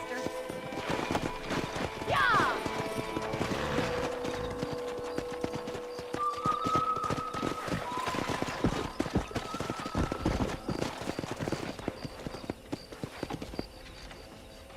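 Horses clip-clopping through the Red Dead Redemption video game as wild horses are wrangled, a steady run of hoofbeats with an occasional whinny under game music and dialogue, with talking throughout.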